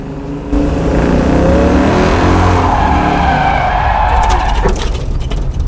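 A Chevelle SS454 spins out on a road racing track at Stratotech Park: the engine roars loudly as the tires skid and squeal for several seconds before the sound fades and breaks up.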